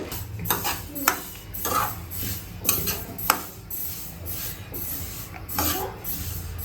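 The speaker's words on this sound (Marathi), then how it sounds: "आपले तीळ आपल्याला छान असे मस्तपैकी अगदी काही मिनिटे भाजून घ्यायचे आहेत" Sesame seeds dry-roasting in a pan while being stirred, heard as repeated scraping and rustling strokes of a spoon against the pan, fairly close and moderately quiet, with no talking.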